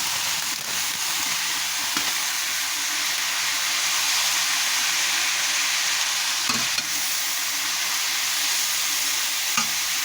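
Spicy flavoured rice noodles fry in a pan with a steady, bright sizzle throughout, broken by a few sharp scrapes and clinks of stirring near the middle and end.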